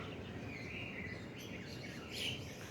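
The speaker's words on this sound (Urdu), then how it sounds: "خوبصورت آوازیں چڑیوں کی" Small birds chirp in a morning garden, a busy outdoor chorus of overlapping tweets at moderate volume over a steady background hiss, with a brief brighter call near the end.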